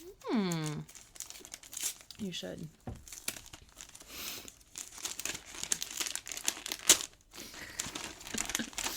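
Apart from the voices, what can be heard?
unwrapping jungle wrapping paper from a gift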